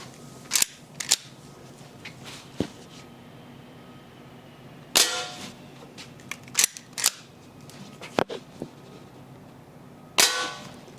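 Umarex lever-action air rifle firing single shots in a quiet room, several sharp cracks spaced a few seconds apart, some followed by a brief metallic clack of the lever being worked.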